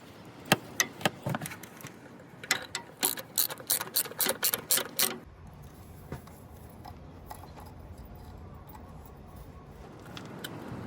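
A ratchet wrench with a 9/16 socket tightens a fitting for an oil pressure sending unit on a car engine, a quick run of sharp, close clicks in bursts, then a quieter stretch with a few scattered clicks.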